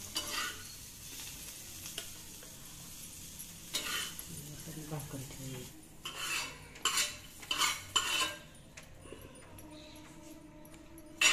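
Fried bitter gourd being moved from a pan to a plate with the gas off: a clatter of metal utensil scrapes and clinks against pan and plate, irregular and close, with faint residual sizzle and brief voices in between.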